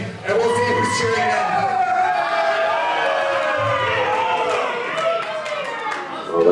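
A wrestling crowd in Saskatoon chanting for the wrestler El Asesino. The loud, steady sing-song crowd noise carries a melodic chant throughout, with a commentator talking over it.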